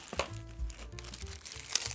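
Plastic wrapping crinkles as it is peeled off black flatware cutlery from a four-person set, a close, fairly quiet rustle with brief crackling bursts across two seconds and no talking.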